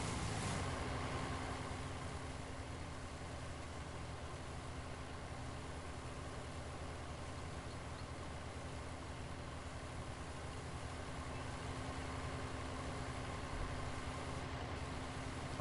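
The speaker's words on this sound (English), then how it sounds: "Oh, this guy's painfully slow, this tractor." A tractor engine in the video game Farming Simulator 19, hauling a small grain tank at slow speed, running as a steady low drone throughout with no talking.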